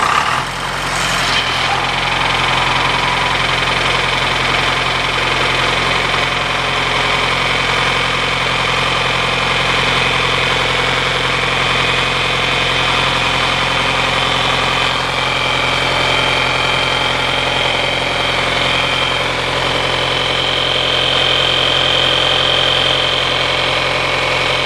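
John Deere 410 backhoe engine, just repaired after a hydraulic leak, runs at a loud steady diesel idle with a constant low throbbing drone throughout, starting immediately and continuing unchanged.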